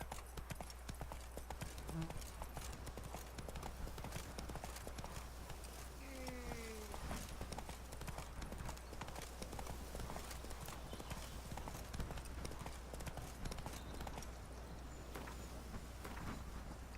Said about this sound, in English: Okay, let's get Roach. It'll be a little quicker to get there. Giddy up.